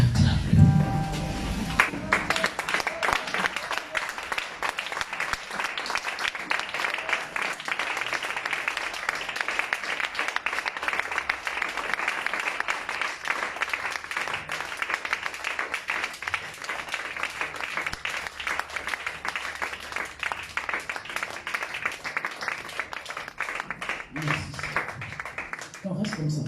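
A church congregation applauding steadily and loudly for the full length, dense continuous clapping with a few voices mixed in.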